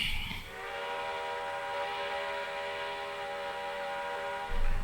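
A steam locomotive whistle sounds in one long, steady, sustained tone, moderately loud and alone, with a harmonic, slightly breathy quality.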